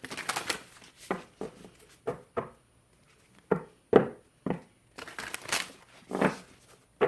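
Oracle cards given a quick shuffle by hand: a series of short, crisp riffling and slapping bursts separated by brief pauses, quiet and close, with no talk.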